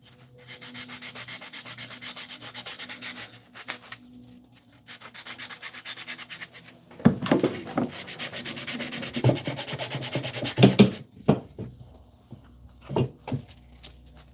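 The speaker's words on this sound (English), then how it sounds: "sometimes you gotta sand just to clear away some of the excess so you get a better idea what you're dealing with" Wood is sanded by hand in a carpentry shop in long, raspy strokes: two steady passes, then a faster, choppier burst of rubbing with knocks between strokes, close and fairly loud.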